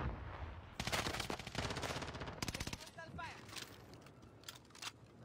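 Rapid bursts of automatic gunfire in an online multiplayer shooter, dense crackling volleys followed by scattered single shots, with a voice talking faintly underneath.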